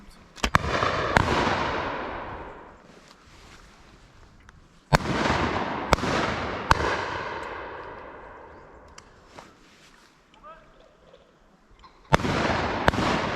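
Shotgun blasts at a driven pheasant shoot outdoors, loud sharp reports, some in quick pairs, each followed by a long fading rumble, with quieter distant shots between them.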